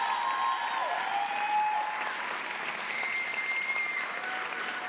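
Sustained applause from a large audience honoring graduates and their families at a Latino graduation celebration, steady and full throughout with a few faint voices and whistles in the crowd.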